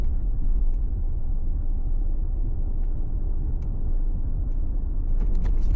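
A car rolls steadily along a road through an abandoned Air Force base, a constant low rumble of engine and tyres with faint scattered clicks, close and without talk.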